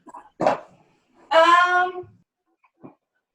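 A pet dog gives a single close, clear bark followed by a longer whining yelp, with a few soft snuffles and quiet gaps around them.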